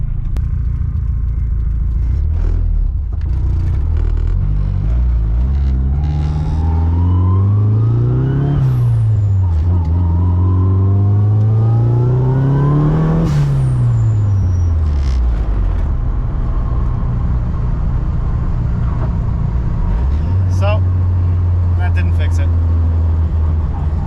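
A car engine drones loud and close as the vehicle drives, rising in pitch through two long accelerations and easing back between them, then settling into a steady hum.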